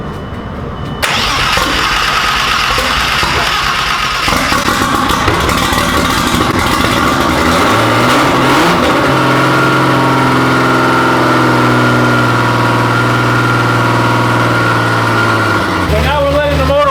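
A big-turbo 12-valve VR6 swapped into a B5 Audi A4 cranks and fires, then settles into a steady, loud idle. Oil dropped in the manifold is burning off, and a voice is faintly heard over the running engine.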